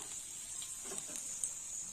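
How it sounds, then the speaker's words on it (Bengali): Dried red chilli and five-spice tempering frying in hot oil for a potato and brinjal fry, giving a soft, steady, continuous sizzle with no voices. "ফোড়নটা একটু ভাজা হয়ে যায়।"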